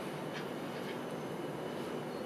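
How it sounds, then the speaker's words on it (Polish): A passenger train at Łowicz Główny station in the evening, heard as a steady, fairly close rolling rumble with broadband rail noise and no voices. "Pociąg osobowy do stacji Warszawa Wschodnia, przez stację Warszawa Zachodnia"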